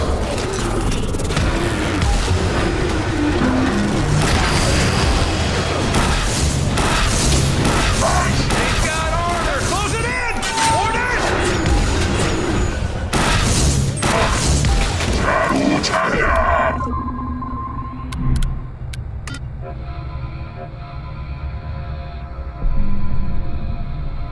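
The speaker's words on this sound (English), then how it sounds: "Get me artillery! Ordnance inbound!" Artillery strikes and explosions in the video game The Bureau: XCOM Declassified, a dense stretch of loud booming blasts and crashing combat noise, then a few isolated thuds after the barrage dies down.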